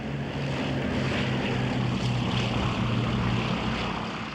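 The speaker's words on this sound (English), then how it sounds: "Allied photo reconnaissance aircraft swept over the beaches of northern France" Allied photo reconnaissance aircraft fly over the beaches of northern France in autumn 1943, a steady, loud propeller-engine drone with a low throbbing hum holding evenly throughout.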